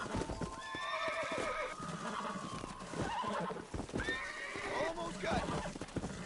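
A horse in the Red Dead Redemption video game neighs and whinnies repeatedly over clip-clopping hooves, while a person talks over the game sounds.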